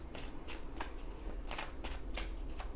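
A Lenormand (baralho cigano) card deck is shuffled close up, giving a quick series of crisp riffling bursts at a steady rhythm with no talking.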